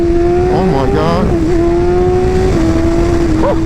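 BMW M1000RR superbike engine after an ECU flash, holding a loud, steady high idle with a few quick blips of revs, close to the microphone, while a person talks.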